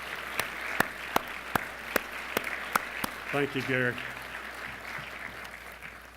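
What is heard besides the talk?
audience applause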